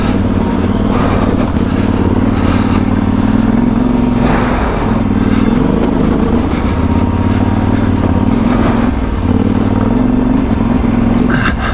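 A motorcycle engine labours loud and close while climbing a steep backcountry trail in the Idaho backcountry, a continuous throaty drone that rises and falls with throttle and clutch work, with gravelly clatter from the terrain.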